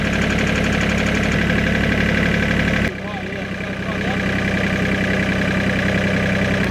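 A tractor engine idles steadily and loudly nearby, a continuous mechanical drone running through the whole stretch, with a brief dip partway before it settles back to the same even rumble.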